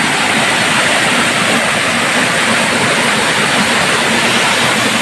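Water roars down Tariris Falls in Barangay Awitan, Paracale, Camarines Norte, a loud, constant rushing wash with no break, heard up close.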